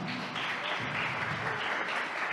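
Applause from a church congregation at a Filipino preaching service, a steady dense clapping wash filling the room throughout with no speech over it.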